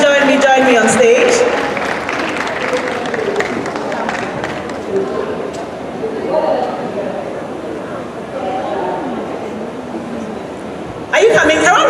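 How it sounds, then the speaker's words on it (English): Applause from an audience on the University of Ghana campus during a Miss Malaika event, a steady broadband clatter lasting several seconds with voices and cheering over it, dipping and then swelling sharply again near the end. "A round of applause for them."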